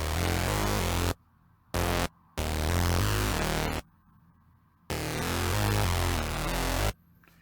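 Super saw synthesizer patch soloed in Caustic 3 for a cyberpunk track, playing loud, bright chopped chords in bursts separated by short gaps of silence.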